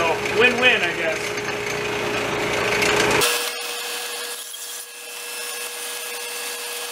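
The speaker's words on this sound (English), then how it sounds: "my little drill press plug jig is working pretty good. I can make about 8 plugs a minute." A drill press with a plug jig cuts wooden plugs, producing a loud grinding, rasping whir for about three seconds that then cuts off, leaving quieter workshop noise behind.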